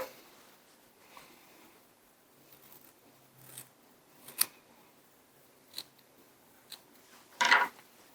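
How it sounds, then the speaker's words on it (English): Scissors give a few sharp snips through bucktail hair at a fly-tying vise, isolated crisp cuts spread out with quiet between them, the last one loudest and nearest. "Give it a clean snip."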